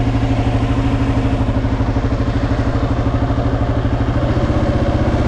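Motorcycle engine idling at a refuel stop in Mexico, a loud, close, steady rhythmic putter that continues evenly throughout with no talk.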